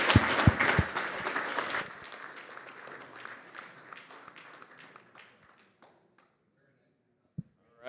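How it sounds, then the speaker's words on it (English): A burst of applause and a few cheers rise at the start of a Bitcoin conference talk, then the clapping thins out and fades to near silence, with a couple of isolated taps at the end. "Please give a round of applause to the guardian angel of Bitcoin, Luke Dash Jr."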